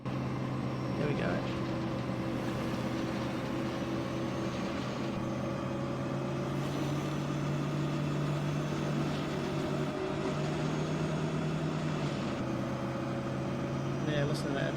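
Battle Truck FMOD mod engine in American Truck Simulator, a continuous low rumbling truck drone cruising at steady revs, moderately loud and unbroken throughout, with no voices over it.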